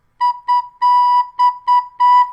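A student plays a recorder in clean, steady tones: six separate notes on one pitch, short and long in turn, with crisp gaps between them, close and clear with no talking.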